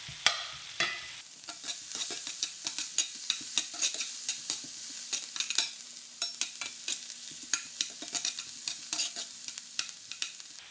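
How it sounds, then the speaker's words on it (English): Onions sautéing in a pan for a wild duck liver dish, a soft steady sizzle beneath repeated scraping and stirring strokes from a utensil, close and fairly quiet, with no talking. "we're going to throw in the onions and get these sautéed down to where they're soft"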